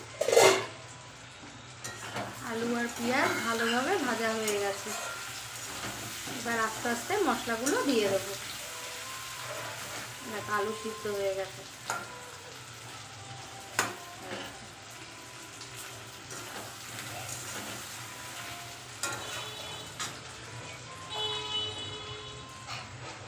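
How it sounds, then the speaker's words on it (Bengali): Onion and potato sizzling in hot oil, a steady frying crackle with a voice talking over it early on and clinks of utensils. "পেঁয়াজ আর আলুটা ভাজা হবে ভালো"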